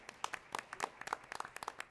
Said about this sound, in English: And yes, we can clap.